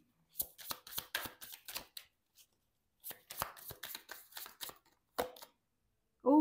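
Tarot cards are shuffled and handled up close in two clusters of quick crisp riffles and slaps separated by a short pause, clear against near silence.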